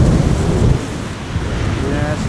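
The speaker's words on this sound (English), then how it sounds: "Yes, now we can definitely feel more of the wind." Strong, gusty wind buffets the microphone at Amsterdam Schiphol Airport during a stormy day of crosswind arrivals, a loud, continuous roar that surges heavily in the first moment and then settles into steady rumbling noise.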